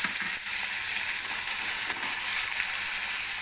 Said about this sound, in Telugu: ఒక కప్పు ఉల్లిపాయలు వేస్తున్నాను